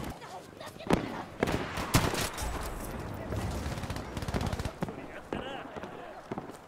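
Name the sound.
machine gun fire in the video game Battlefield V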